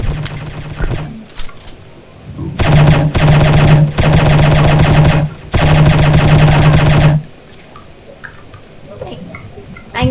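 Rapid automatic gunfire from an armor-piercing weapon in the mobile shooter game Striker rattles in loud bursts, with two long sustained volleys separated by a short pause, then falls quiet with small clicks.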